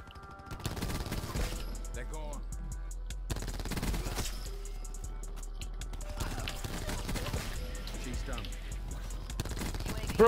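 Rapid gunfire rattles in the first-person shooter Black Ops 4, with repeated bursts of shots over a steady low game hum, fairly quiet and mixed with other game effects.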